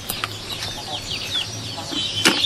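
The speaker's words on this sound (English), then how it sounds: "you can see fowls at the center, which are growing as free-range chicken" Free-range fowls roaming outdoors cluck and chirp repeatedly in short, uneven bursts, with a sharper squawk near the end over faint background noise.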